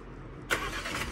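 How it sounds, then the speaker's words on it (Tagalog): A car engine catches partway through as the vehicle gets ready to pull forward, a sudden bright start followed by a steady near idle with broadband hiss, no talk. "Andito na kami, pero kailangan mag-move forward ni Ate Fel ng sasakyan kasi ang laki pa nung space."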